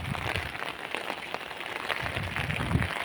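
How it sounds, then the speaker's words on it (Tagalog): Steady rain pours down in a dense, continuous wash of patter on a surface, with no pause throughout. "grabe yung ulan dito walang tigil ilang araw na yan"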